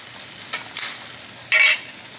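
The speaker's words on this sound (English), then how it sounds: "my shrimp cook a little bit, and then I can add in my crab" Shrimp cooking in a pot for a Cajun étouffée. A low, steady sizzle runs underneath, with a few short stirring scrapes and clatters. One louder burst of frying comes near the end, and no one speaks.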